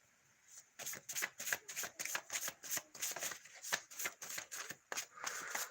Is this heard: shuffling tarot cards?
yes